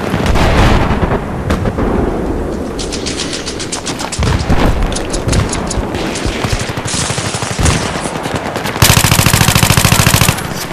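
Loud close machine-gun fire in Battlefield 3, rapid rattling bursts and single shots repeating throughout, ending in a dense sustained volley.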